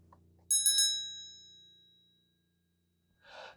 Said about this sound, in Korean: 정확히 들리는 종소리.